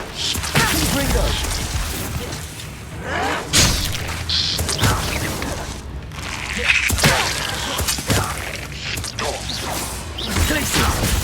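Confringo blast spell cast during Hogwarts Legacy combat: repeated booming impacts and mechanical clatter, with voices talking throughout.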